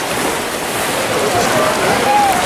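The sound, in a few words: sea waves at the Antalya cliffs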